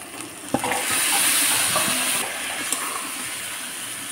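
Washed chicken meat hits a hot pan of spices with a loud sizzling hiss and steam, stirred with occasional utensil knocks, the frying swelling then settling to a steady close crackle; no talking.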